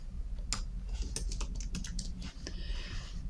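Rapid typing on a computer keyboard, a close, quiet run of irregular clicky keystrokes with short pauses between bursts.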